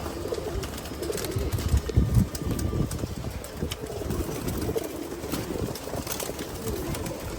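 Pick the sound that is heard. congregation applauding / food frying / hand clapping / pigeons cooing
pigeons cooing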